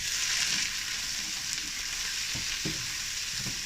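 Onions sauté in olive oil over a hot fire, a continuous close hiss of frying with a few soft spoon knocks toward the end, no voices.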